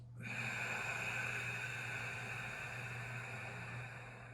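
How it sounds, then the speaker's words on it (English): A long, steady nasal exhale during a yin yoga breathing exercise gives a soft, airy rush of breath lasting several seconds over a faint constant hum. "Exhale through the nose."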